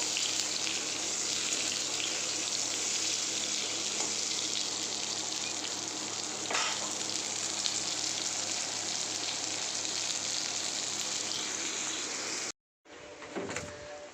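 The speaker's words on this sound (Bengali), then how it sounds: "এবারে পটলটা একটু ভালো করে লাল লাল করে ভেজে নেবো" Pointed gourd (potol) frying in a pan, giving a steady, dense sizzle that runs unbroken for most of the clip before cutting off abruptly near the end.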